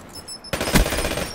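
PPSh submachine gun firing in a video game, a sudden loud burst that cuts in after a quiet moment and rattles on continuously to the end, with dense broadband energy.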